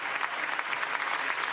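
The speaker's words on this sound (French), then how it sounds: "Les députés qui applaudissent tous pour rendre hommage au peuple ukrainien" Deputies in the French National Assembly applauding together, a dense, sustained wash of clapping hands filling the chamber.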